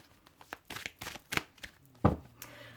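Heal Yourself reading cards by Inna Segal being shuffled and handled, a run of soft, papery riffles and flicks close by, ending in one sharper slap of the deck.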